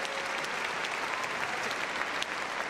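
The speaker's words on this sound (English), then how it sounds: "Give a big round of applause." Steady, dense applause from an audience at a gundog display during the Crufts 2013 dog show, filling the space evenly throughout with no break.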